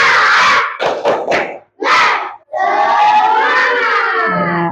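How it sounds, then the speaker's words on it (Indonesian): A group in a classroom, led by a teacher, performs the 'tepuk semangat' spirit chant, loudly shouting in unison with a few sharp clap bursts, then holding a long drawn-out cheer. "Ayo kita ulang lagi terakhir. Tepuk semangat."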